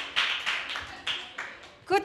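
Hands clap in several short group bursts at a church youth program, separated by brief pauses, with a voice briefly cutting in at the end.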